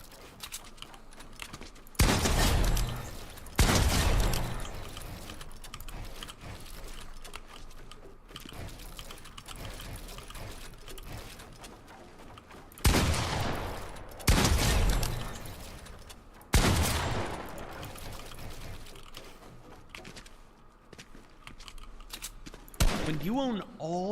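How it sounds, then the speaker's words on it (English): Gunshots ring out at a practice sentry in a shooting video game, several loud sharp bursts spread across the stretch, some in quick clusters, with a voice talking and keyboard clicks in between. "Practice taking some shots on this first sentry here."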